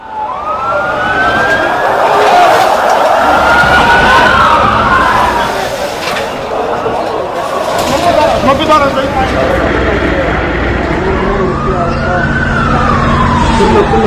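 Ambulance siren wailing loudly at a bombing site strewn with rubble, its rising and falling tone sweeping repeatedly over continuous traffic and crowd noise, with voices talking underneath.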